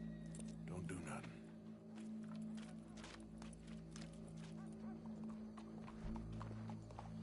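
Hooves clip-clop steadily on a hard surface with a low rumbling background, close and continuous, a horse moving at a walk.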